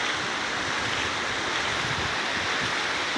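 Water roars in a steady, loud, broadband rush, a continuous torrent of floodwater pouring from a breached levee on the Chi River into rice fields, with no pauses and no voices.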